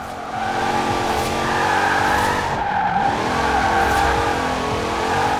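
A 2014 Jeep Grand Cherokee SRT drifting in Forza Horizon 4 on a rally off-road build: a loud, continuous tire squeal and skid layered over a steady, revving engine drone that holds for several seconds.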